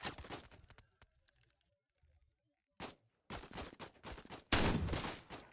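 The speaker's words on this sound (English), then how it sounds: "I am really bad at this long-range shooting." Long-range gunfire in the video game Out of Bullets, coming as loud, sharp bursts of rapid shots separated by near-silent pauses, with a heavy final volley at the end.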